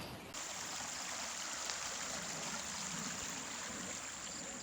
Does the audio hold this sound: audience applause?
no